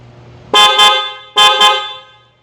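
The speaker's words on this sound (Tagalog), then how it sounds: "also add one set of PIAA sports horn" A PIAA sports horn fitted to a three-door Suzuki Jimny honks loudly in two double blasts, each a pair of quick bright toots, ringing briefly after the last.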